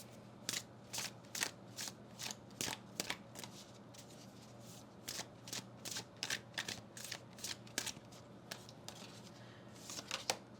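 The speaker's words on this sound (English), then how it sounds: "I'm going to pull from this oracle deck" An oracle card deck is shuffled by hand in repeated quick riffling bursts, each a crisp papery flutter. The bursts come in an uneven rhythm, close and fairly quiet, with no talking.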